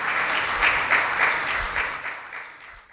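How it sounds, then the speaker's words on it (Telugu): A church congregation clapping loudly in praise to God during a Telugu Christian devotion service, a dense continuous burst of many hands that stays strong and then gradually fades toward the end. "గట్టిగా చప్పట్లు కొట్టి దేవునికి స్తోత్రం చెల్లిద్దాం."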